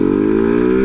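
Motorcycle engine revs with a loud, deep exhaust roar, a brief rising growl heard up close with no voices.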